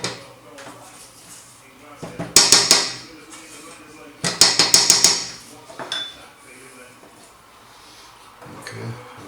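A spatula works around the edges of a pan of melting sugar for Scottish tablet, making bursts of rapid metallic scraping and clinking between quieter pauses.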